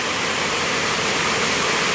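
Floodwater rushes steadily during heavy rain as it rises toward a house, a dense, even roar of churning water that fills the whole moment, loud and unbroken, with no voices.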